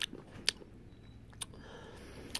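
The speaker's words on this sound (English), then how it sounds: "I bit into the middle, and there was a crunchy taste. That must be the graham cracker." Ice cream with crunchy graham cracker pieces being bitten and chewed close up, a few sharp crunchy bites over soft, quiet mouth noises, no talking.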